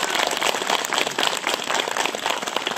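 Sustained applause from a crowd at a campaign rally for a mayoral candidacy, dense steady clapping at moderate distance, with no speech over it.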